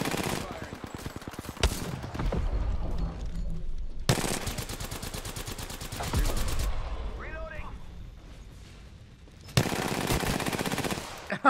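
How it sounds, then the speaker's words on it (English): Bursts of rapid automatic gunfire from the video game Apex Legends crackle in several long volleys, separated by short pauses. "Well, it's all gunshots."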